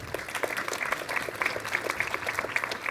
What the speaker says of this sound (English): Let's give everyone on stage a warm round of applause